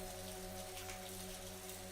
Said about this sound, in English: The raindrops fell on the leaves, creating a delicate melody that filled the air.